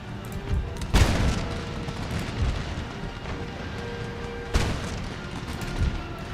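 Musket regiments firing in the Empire: Total War battle game, a few heavy volley cracks standing out over a continuous rumbling din of distant shots and booms, loud and layered.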